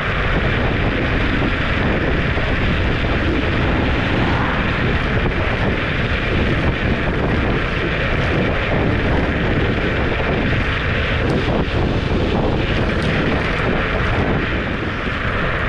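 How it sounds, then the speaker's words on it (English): Strong wind roars across the microphone while riding a Kaabo Mantis Mini electric scooter, a loud, continuous rushing buffet that persists throughout with no break. "Getting a little bit windy now."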